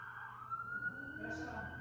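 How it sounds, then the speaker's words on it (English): A wailing emergency siren holds a steady high tone across the clip, moderately loud, with low rumble and a rising tone near the end. "Anytime I hear a siren, I say a prayer."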